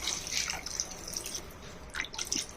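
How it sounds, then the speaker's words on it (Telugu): Water is poured into a pot of crab curry, heard as quiet dribbles and splashes of liquid with a couple of brief louder bursts of pouring, close but faint. "కొంచెం నీళ్ళు కూడా పోసుకుంటున్నాను"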